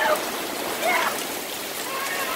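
Heavy rain pours down in a dense, steady hiss close by, with a voice faintly audible beneath the drumming water.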